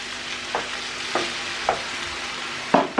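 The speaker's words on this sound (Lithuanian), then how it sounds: "Dabar čia užpilam vandens truputį." Minced meat with sweet potato and pumpkin sizzling in a pan as a little water goes in, a continuous close frying hiss broken by several short bursts of spluttering and stirring.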